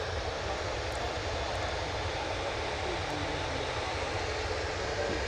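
An easyJet Airbus A320neo jet airliner at Manchester Airport, heard from a nearby field as a steady, continuous broadband engine roar that stays loud and even throughout, with no voices.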